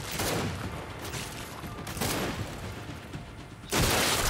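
Rapid bursts of gunfire from the video game Gears 5, loud and dense, with sustained automatic fire broken by short gaps and a sharp renewed volley at the end, no talking.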